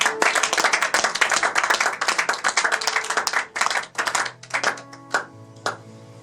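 A church congregation claps and cheers together, a dense run of rapid, loud hand claps that thins into scattered bursts toward the end as a low, steady tone comes in.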